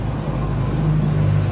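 A misfiring Honda TMX125 motorcycle engine idling close by, a loud steady low rumble with an uneven droning hum throughout.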